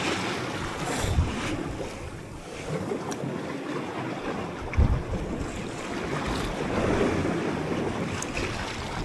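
Strong wind roars steadily over open sea around a fishing boat out for cuttlefish off Hallim, with wind buffeting the microphone, water sloshing against the hull and a few louder gusts.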